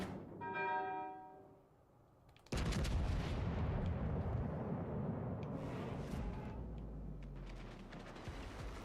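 Warship main guns fire shells in World of Warships Legends during a naval battle, a loud broadband boom erupting after a brief tonal passage and rolling on as a dense, sustained rumble of gunfire and explosions.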